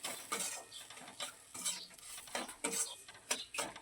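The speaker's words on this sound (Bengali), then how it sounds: "সুজিটা দিয়ে একটু নেড়ে ছেড়ে নেব।" A spoon scrapes and stirs dry semolina with spices in a pan, producing quiet, irregular rhythmic strokes and gritty scratches, close up with no talking.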